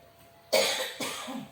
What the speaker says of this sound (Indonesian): maaf ya Pak, saya batuk-batuk nih Pak